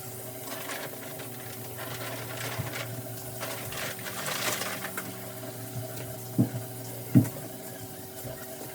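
Fresh salmon rinsed under a running kitchen tap, a steady hum of flowing water with a faint mechanical drone beneath it and two brief knocks near the end, no talk.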